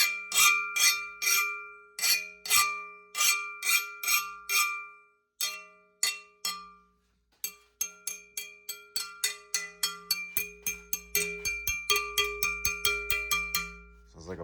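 A freshly tempered MagnaCut steel cleaver, hardened to around 63 HRC, is struck again and again, ringing out with clear bell-like tones that each decay away, the taps speeding up into a rapid series near the end.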